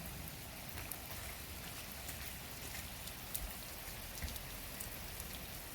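Steady rain falls and patters on a homemade rain gauge, a continuous soft hiss with scattered drops, and nobody speaks.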